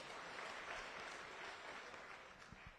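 At a funeral gathering, mourners give a dense round of clapping that holds steady for a few seconds before easing slightly.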